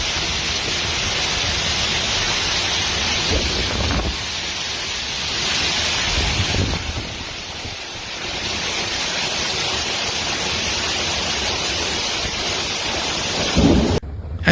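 Steady heavy rain pours down during a thunderstorm amid the Barcelona floods in Catalonia, with thunder rumbling underneath in dense continuous noise and a sudden sharper crack near the end, no talk.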